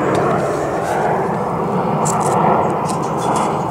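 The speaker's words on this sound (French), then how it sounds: "Putain d'avion." An airplane flies overhead, a steady broadband roar that fills the whole stretch without a break and stays fairly loud throughout.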